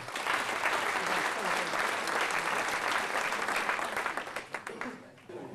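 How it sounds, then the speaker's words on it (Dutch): Steady, dense applause from an audience at a local sports award ceremony in the Netherlands fills most of the clip, then tapers into a few scattered claps near the end. "Ook een applaus voor Christ."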